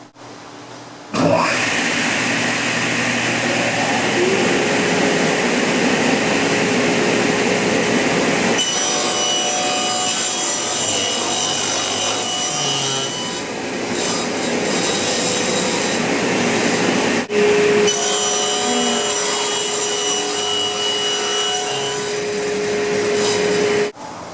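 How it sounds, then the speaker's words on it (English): A saw rips a taper along a crooked wooden board in a woodworking shop, a loud, close, sustained whining roar that runs for over twenty seconds, its pitch shifting as the cut progresses, with brief dips between passes. "We're ready to just run this through here and rip a perfect taper."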